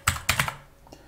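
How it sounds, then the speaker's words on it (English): Python code typed on a computer keyboard, a few crisp, close keystrokes in a quick uneven cluster followed by fainter taps. "let me just type that"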